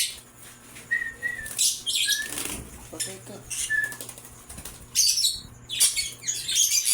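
Pet birds being fed chirp, whistle and squawk in bright, scattered bursts, some loud and close, mixed with a brief spoken phrase and light clinking.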